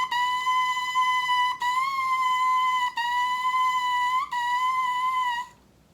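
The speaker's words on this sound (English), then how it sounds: "so simple tonguing should sound something like this" Bright, steady oboe tone on the reed played alone, the sustained note briefly interrupted four times by simple tongued articulations before it stops.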